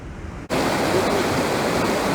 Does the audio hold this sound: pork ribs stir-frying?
no